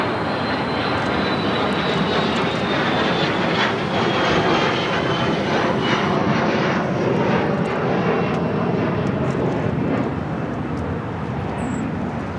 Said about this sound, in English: That's the A380 now heading in more than likely to that exact same gate.